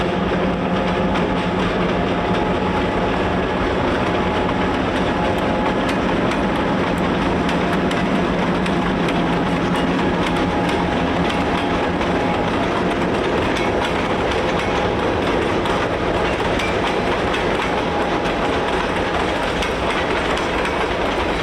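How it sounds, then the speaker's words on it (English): Train led by locomotive 3854 on the Coos Bay Rail Line, passing through a power line opening in the Northwest: a loud, continuous rumble of rolling freight cars with steady clickety-clack from the wheels and no voices. "we're a few miles north with the same train led by 3854 through a power line opening."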